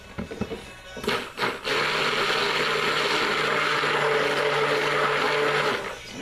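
A stick blender whirs steadily in soap batter as charcoal is mixed in, starting with a few short bursts before running as one loud continuous buzz for several seconds, then cutting off.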